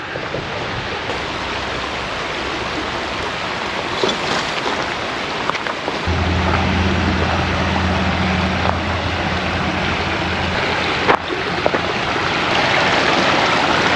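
Water pours over the stepped waterfalls of the Humber Creek restoration west of Scarlet Road, a loud constant rushing roar, joined midway by a low steady hum in the background.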